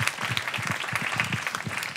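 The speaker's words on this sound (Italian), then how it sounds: "Applauso anche a questa entità." An audience applauds at a live podcast recording under a tent, brisk close clapping mixed with some cheering and murmuring voices, steady throughout.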